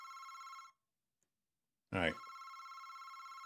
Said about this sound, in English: So the phone's ringing.